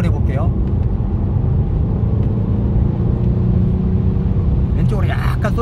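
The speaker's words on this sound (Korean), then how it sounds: "자, 여기서 가속을 해볼게요." A car accelerates on a straight road during a hands-off wheel alignment test drive, a steady engine rumble with road noise running throughout; someone talks over it.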